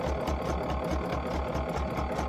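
A sewing machine runs steadily in a straight stitch through scrap fabric for a beginner bookmark, its needle thumping in a fast, even rhythm close by with a constant motor hum and no talk over it.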